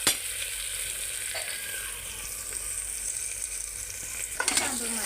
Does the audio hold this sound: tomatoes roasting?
yes